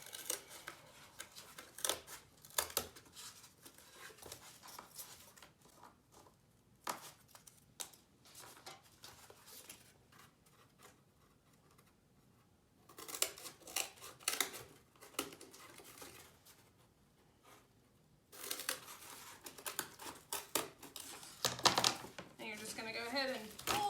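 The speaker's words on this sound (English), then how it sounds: "with some scissors, you're gonna go in and you're gonna start cutting out" Scissors snipping paper to cut out the points of a paper crown, giving bursts of quiet crisp cuts separated by short pauses, close by, with no talking.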